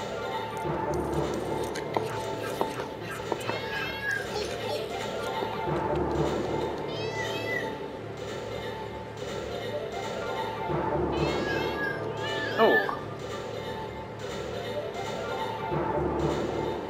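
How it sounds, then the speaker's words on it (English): A cartoonish cat meows repeatedly in the LEGO City Undercover video game. The rising mews sit over steady game music and ambience. "Rescue the cat, yay!"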